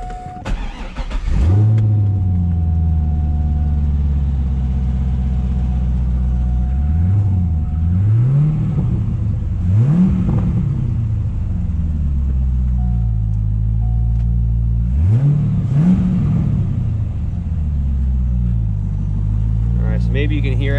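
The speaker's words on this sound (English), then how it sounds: "there is a crazy noise coming from this torque tube" A Corvette engine idles with a steady low rumble, while a loud, harsh noise from the torque tube underneath rises and falls in repeated swells throughout.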